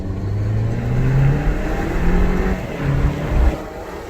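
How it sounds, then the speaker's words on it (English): An Alfa Romeo Giulia 2.0 with a Eurocompulsion V2 intake pulls through second gear on an open street, its engine note rising steadily and fairly subdued, with a brief throttle blip near the end. "So now I'm gonna try to do a second gear pull here on the open streets of Mexico and see if we can get any intake noises"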